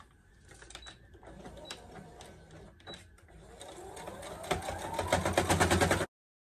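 A home sewing machine stitches the armhole of a DIY crop top, its needle running in rapid mechanical bursts that speed up and grow louder toward the end before stopping abruptly, with a few faint clicks earlier.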